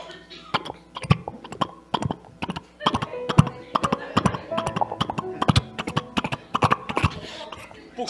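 A preacher imitates a galloping horse, a steady, rapid train of sharp clopping beats kept up for several seconds, loud and close with little else around it.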